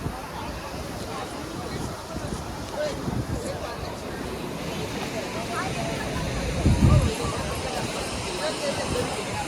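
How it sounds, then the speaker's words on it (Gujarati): Rough sea crashes on the Somnath temple coast, a constant churning roar of surf with wind buffeting the microphone, one heavier wave surge near the end, while someone talks over it. "દરિયો અત્યારે ગાંડો તૂર છે"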